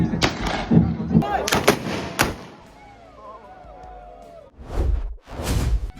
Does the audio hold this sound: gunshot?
yes